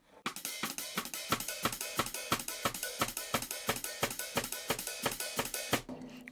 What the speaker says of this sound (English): both together, the snare and the hi-hat would sound like this